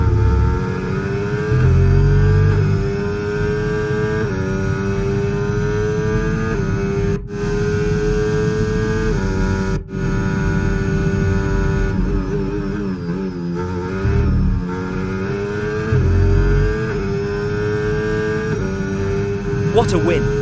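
A Mercedes Formula 1 car races at Interlagos in the Brazilian Grand Prix sprint in a racing video game, its high engine whine steady and loud with gear-shift pitch changes, while commentary runs underneath.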